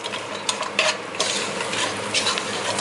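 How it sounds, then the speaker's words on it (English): Bhuna khichuri, a Bengali rice-and-lentil dish, sizzles in a pan as garam masala is stirred in. A steady frying hiss runs throughout, with a few sharper spatula scrapes. No one speaks. "Now add some garam masala powder. Give it a good mix and cook it for another 4 minutes."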